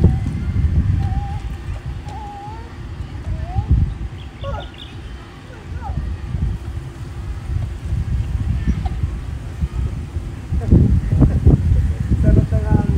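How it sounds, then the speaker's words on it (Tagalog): Wind gusts across an outdoor spot, buffeting the microphone with a continuous low rumble that swells and eases and grows strongest near the end, while voices are heard faintly. "Sarap ng hangin."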